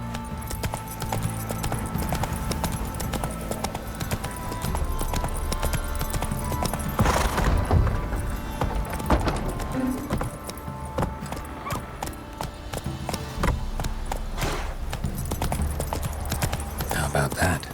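Horse hooves clip-clopping at a steady trot in The Witcher video game, a continuous rhythmic clatter of hoofbeats heard close throughout, with game ambience around it.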